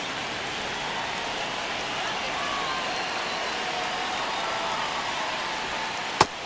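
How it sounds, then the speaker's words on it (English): Baseball stadium crowd during a one-run 9th inning between the Rockies and Giants, a steady, broad murmur of many spectators held at a constant level, with a single sharp crack near the end. "Crowd locked in right now."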